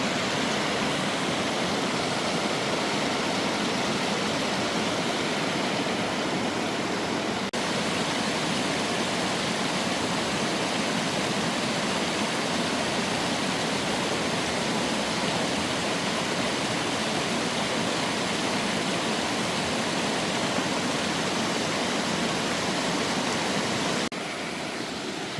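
Creek water rushes over a small homemade dam into a deep pool in a national forest, a steady, loud, close broadband roar that continues unbroken without any talk.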